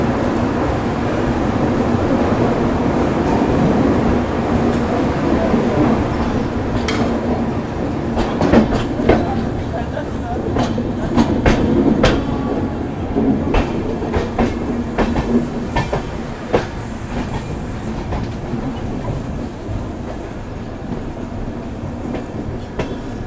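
The Mysore–Howrah weekly superfast express pulls out of KSR Bengaluru, heard from inside a 3AC coach as a steady rumble with rhythmic clickety-clack of wheels over rail joints and occasional sharp clanks, and no voices.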